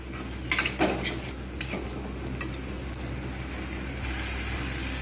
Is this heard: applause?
no